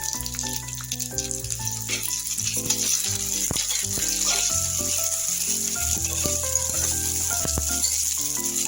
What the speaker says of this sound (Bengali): একটু কালার করে ভেজে নিব কাঁচা লঙ্কা ফাটিয়ে নিয়েছি